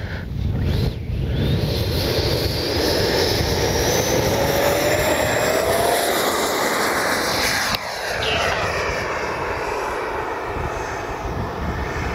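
A Freewing MiG-29 radio-controlled jet with twin 80mm electric ducted fans whines loudly and steadily as it takes off outdoors, a continuous high-pitched rushing roar with a rising tone that holds throughout.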